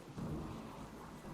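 Rain and thunder in a video game, a low rolling rumble of thunder over a soft, steady wash of rainfall, heard alone without speech.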